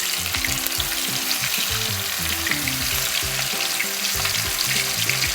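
Chicken frying in hot oil gives a loud, steady sizzle with crackling pops, and a lower bubbling churn runs beneath it throughout.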